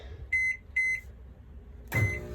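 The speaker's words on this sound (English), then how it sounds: "up here in the microwave. And then I'm going to do, we're going to try 2 minutes to start with." A microwave oven heating keto pizza in a mug gives two short keypad beeps, then a third beep as the oven starts with a low running hum, quiet and close.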